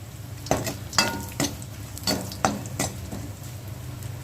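Ground garlic and curry leaves crackle softly in hot oil while a spoon knocks and scrapes the pan in a loose rhythm of sharp taps, about eight strokes in four seconds.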